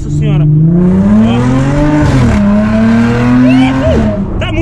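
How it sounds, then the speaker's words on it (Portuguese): An Audi A7 with a straight-pipe exhaust revs loudly up close, its raspy engine note climbing and dipping through several throttle blips with a brief drop around the middle, and faint voices in the background. "Tá de outro mundo o ronco do carro, galera."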